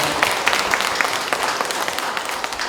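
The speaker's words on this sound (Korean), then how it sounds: "큰 박수 부탁드리겠습니다." Sustained applause fills a library policy concert marking the 30th anniversary of Paju city libraries, a dense, steady patter of many hands clapping throughout at moderate loudness.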